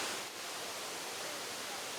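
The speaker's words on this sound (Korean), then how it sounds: "무더운 기후에도 시원함을 뽐내는 청정지역 꽝시 폭포" Kuang Si waterfall in Laos roaring as a steady, dense wash of rushing water, constant and close with no pauses.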